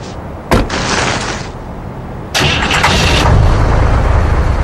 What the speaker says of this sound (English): There's a snowmobile over there!